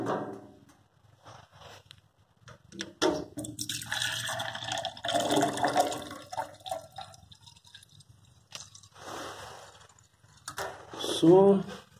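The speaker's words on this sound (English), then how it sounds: "Fill it with water." Water trickles and drips into a glass, with a splashy pouring sound amid some handling noise and a brief voice near the end, while testing a car brake fluid test pen.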